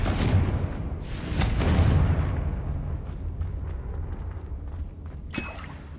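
Confringo fire spell explosions in the Hogwarts Legacy game, two booming blasts followed by rumbling, with a sharp crackle near the end and no voices.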